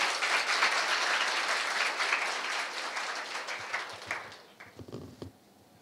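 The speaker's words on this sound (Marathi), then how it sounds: "एकदा जोरदार टाळ्या होऊ द्या" An audience at a memorial lecture breaks into loud applause that keeps up steadily for several seconds, then thins to scattered claps and fades out. No one speaks over it.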